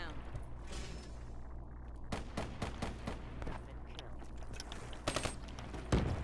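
Burst-fire rifle shots in the shooter Weapons Warfare: loud sharp cracks in quick clusters, the densest run midway and another near the end, over a steady low battle rumble.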